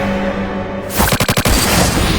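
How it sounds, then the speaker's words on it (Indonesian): Anime pistol gunfire in No Game No Life: a sudden loud burst of several rapid, closely spaced shots, followed by a sustained booming blast with no voices. "Sora langsung masang badan dan nembakin pistol cintanya"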